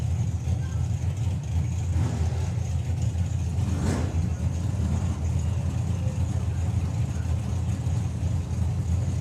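A door car launches hard off the line at the FIA European drag racing finals, a loud engine roar that peaks and swells around the midpoint above constant trackside rumble and crowd noise.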